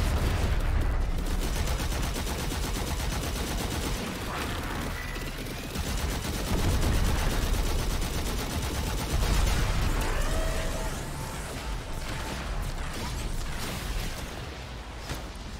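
Railjack crew weapons firing in the space combat game Warframe, dense continuous rattling gunfire and booming blasts layered together at steady loudness throughout.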